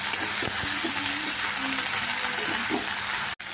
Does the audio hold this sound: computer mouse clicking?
no